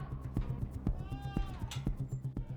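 Black goats on a farm give faint, wavering bleats among a steady series of rhythmic clunks and knocks, with no one talking.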